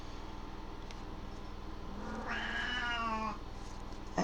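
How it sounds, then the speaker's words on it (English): A house cat lets out one long, wavering meow partway through, close and clear above a quiet, steady background hum. "That's what my cat says."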